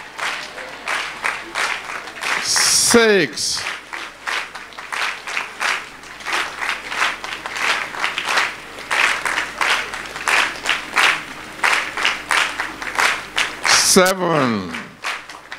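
A congregation claps steadily through a sermon at a large campus gathering, a dense sustained patter of many hands under a preacher's counting voice, with two brief electronic sweeps cutting in.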